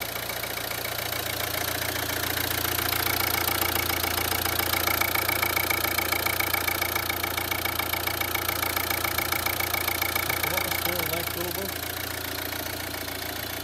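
A Volvo C30 D2 1.6 diesel engine idles steadily at close range, a continuous low rumble with a faint clattering texture throughout, without talk.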